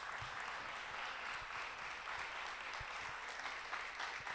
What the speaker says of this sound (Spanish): nuestra hermana María Coralio, den un aplauso al Señor fuerte por sus vidas.